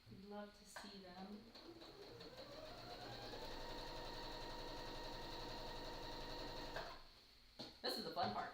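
A sewing machine stitches a tote bag, its motor ramping up to a fast, steady buzzing run for several seconds before slowing and stopping, with someone speaking briefly before and after.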